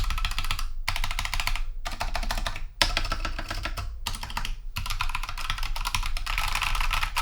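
Rapid, steady clacking of an Ajazz K620T mechanical keyboard being typed on, close up, in bursts separated by brief pauses.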